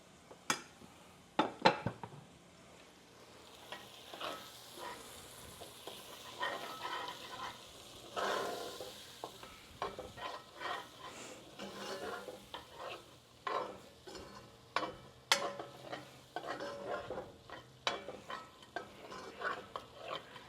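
Half a cup of flour is stirred into half a cup of melted butter in a pot, making a roux for a beef pot pie. Quiet scraping and occasional utensil clinks sit over a faint sizzle, with no talking.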